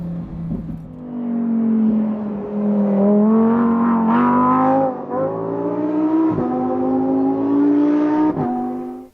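A Lamborghini Huracan EVO in sport mode revs hard, its engine note rising and falling through several surges with strong harmonics, loud and close, with a brief dip between pulls and no talking.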